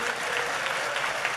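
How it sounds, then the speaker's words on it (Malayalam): A church congregation at a Christian deliverance service claps together, a brief, steady burst of loud applause from many hands throughout. "നന്നായിട്ട് കൈയടിച്ച്"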